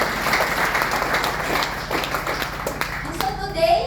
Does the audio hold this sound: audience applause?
yes